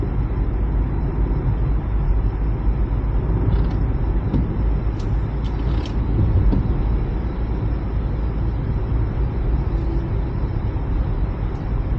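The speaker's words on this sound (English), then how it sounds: "Traffic's all heading the other way towards Bridgetown" A car drives along a road in Barbados during rush hour while traffic passes the other way. A constant, loud road and tyre rumble fills the whole stretch, with a few faint higher squeaks in the middle.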